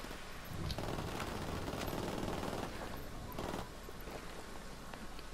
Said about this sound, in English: Alright, I'm getting out my MP5.